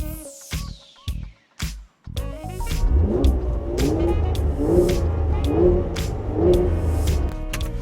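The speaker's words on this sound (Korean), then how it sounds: "그 뒤에서 나는 배기음이랑 이 전반적으로 들려오는 사운드가 굉장히 좋아요" A few sharp chimes sound at the start, then the engine of a 2018 Mercedes-Benz GLC 43 AMG settles into a low, steady exhaust rumble with a faint repeating tone over it.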